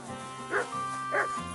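A dog in the medieval game Kingdom Come: Deliverance II gives two short, moderately loud barks about half a second apart over quiet game background.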